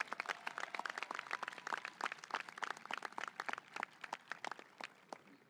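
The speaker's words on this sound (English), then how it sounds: "a round of applause for all these incredible Tigers" A graduating high school class, the Tigers, is greeted with sustained applause from a crowd: dense, continuous clapping with sharp individual claps standing out, steady for several seconds before thinning slightly at the end.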